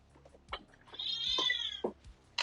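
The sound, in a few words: cat meowing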